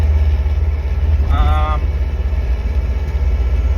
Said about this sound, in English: driving a fucking NA 3-litre fucking piece of shit BMW motor